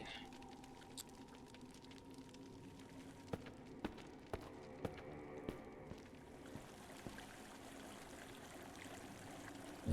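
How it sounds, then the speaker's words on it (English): Water flowing in a dungeon exploration video game, a faint, steady trickling stream with a few soft clicks scattered over it. "Water."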